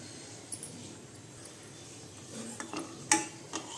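A spoon stirs sugar and tea powder into chai in a pan, with soft clinks and scrapes against the metal rising and falling, a few sharper taps near the end and no talk.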